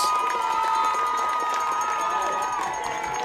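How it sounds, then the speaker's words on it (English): A stadium crowd of fans cheers loudly at the Rex Lindgren Tiger Stadium during a Northern 8 high school football championship between Holgate and Toledo Christian, a dense, continuous roar with shouts that eases slightly toward the end. "And the TC fans sitting in front of us fired up. What a crowd here at Rex Lindgren Tiger Stadium."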